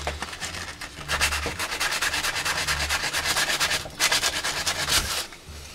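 Metal of a full-metal gas blowback airsoft gun being sanded by hand with 240-grit sandpaper: loud, close rhythmic back-and-forth scraping strokes in quick bursts with brief pauses, no talking.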